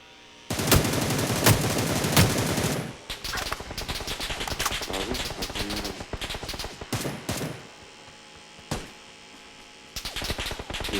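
Gunfire in the New State Mobile video game: loud rapid automatic bursts up close, then scattered shots and volleys with brief pauses, fairly sharp and dense.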